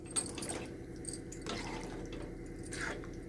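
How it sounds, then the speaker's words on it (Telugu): Water trickles and drips into a thick potato and green pea kurma in a pan, faint and close, with soft wet splashes. "ఇప్పుడు వాటర్ పోస్తున్నా"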